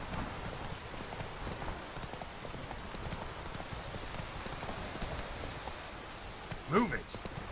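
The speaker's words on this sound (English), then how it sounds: "چه بارونی میاد." Steady rain pours in the video game The Witcher 3, a dense, even hiss of drops with soft hoof clops beneath and a brief louder burst near the end.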